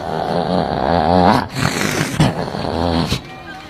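A human voice mimics a male dog's growl, making a drawn-out, throaty rumbling snarl that wavers up and down in pitch, with brief pauses. It is close and fairly loud.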